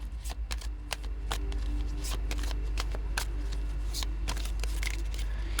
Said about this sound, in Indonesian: Saya akan ambil 3 kartu di sini ya.